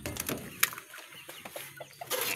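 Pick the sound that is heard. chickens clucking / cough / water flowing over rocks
chickens clucking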